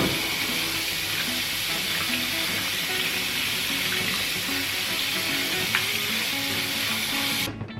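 Rice being rinsed and drained under running tap water in a kitchen sink, a steady rushing splash that holds constant throughout and cuts off abruptly at the end.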